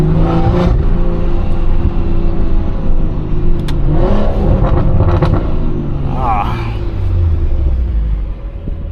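A stage 2 tuned BMW M140i engine, about 400 hp, revs hard and accelerates with a loud rumble that rises and falls. Voices can be heard over the engine noise.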